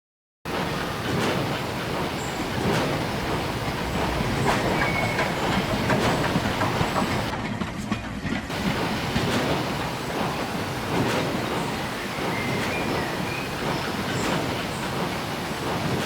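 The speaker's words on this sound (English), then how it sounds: "solo the channel that contains the sounds for the main train itself" Train passing with continuous rumbling rail noise, clickety-clack wheel rhythm and occasional metallic squeals, loud and steady throughout as a sound-design layer for the main train, with a brief dip in the middle.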